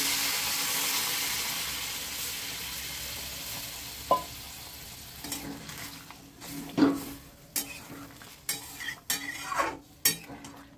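A spatula scrapes and stirs thick jackfruit and potato masala in a pan, with a soft sizzle that fades and then several sharp clanks and scrapes of metal against the pan, close by.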